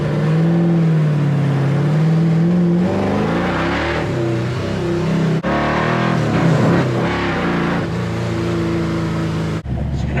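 An LS V8 swapped into an International Harvester Travelall wagon holds a loud, steady drone on a dyno. It rises through a revving pull, with a brief cut near the midpoint and another near the end.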